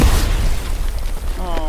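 A grenade goes off in the World War II shooter Hell Let Loose: a loud, close boom at the start that rolls off into a lingering rumble, with a brief voice near the end.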